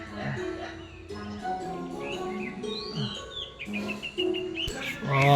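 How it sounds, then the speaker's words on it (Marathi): Birds chirp and tweet in short, high calls over steady outdoor background, with a voice talking at the same time. "मस्त पक्ष्यांचा आवाज."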